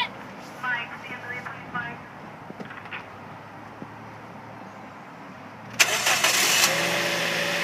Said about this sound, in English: And I'll start it up so you can hear it.